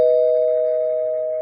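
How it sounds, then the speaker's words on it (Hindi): A single sustained electronic doorbell tone in a home, clear and steady, fading slightly over about a second and a half with no talking. "तभी दरवाजे की घंटी बजी"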